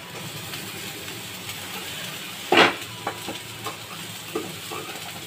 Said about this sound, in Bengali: এটাকে আমি হালকা করে কষিয়ে নেব